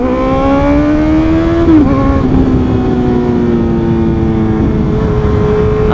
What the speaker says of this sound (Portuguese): Fazendo a curva, concentrada aqui pra vocês, roncando bonito, muito gostosa a moto, muito gostosa.